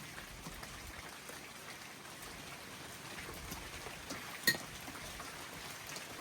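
Rain falls outdoors in a natural setting, a soft steady patter of drops on surfaces with one sharper drip near the end, no voices.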